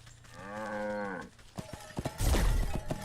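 A cow in the video game Wytchwood lets out one long, loud, tonal moo, followed by clattering game sound effects and a heavy crash.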